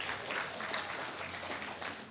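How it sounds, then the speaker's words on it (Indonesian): Applause for speakers at a church gathering, a congregation clapping in a steady, moderately loud patter with a few sharper individual claps throughout. "Tepuk tangan buat mereka"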